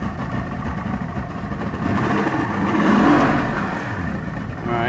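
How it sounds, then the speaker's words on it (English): Twin 1996 Mercury 225 Offshore 3.0L outboard engines run in a steady, loud mid-pitched drone that swells as the throttle is opened around the middle, then eases back slightly. "She fires right up, as you can tell. And throttle it for a second."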